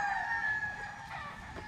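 A young rooster stag crows in a sustained, slightly rising call that trails off, close and fairly loud, with no voices over it.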